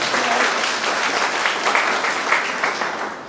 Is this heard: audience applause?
yes